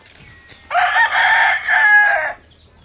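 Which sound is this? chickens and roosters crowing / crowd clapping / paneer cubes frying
chickens and roosters crowing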